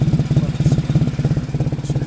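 Two-seater sports car engine idling roughly with a blowing exhaust manifold leak, a loud, close, fast rhythmic chuffing and puttering pulse that stays steady throughout.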